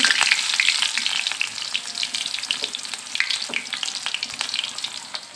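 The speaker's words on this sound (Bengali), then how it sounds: "এবার আমি পেঁয়াজগুলো ভেজে নেব বিরিয়ানি রান্নার জন্য" Onions fry in oil for biryani, a dense, close sizzle with crackling pops, slowly settling slightly in loudness.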